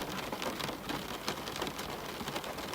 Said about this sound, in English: a storm hit. Rain lashed the tower, and through the downpour